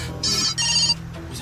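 An incoming call on a mobile phone sets off a loud electronic ringtone close by, two bright bursts of tones with a short gap between them, then a fade into a low room hum.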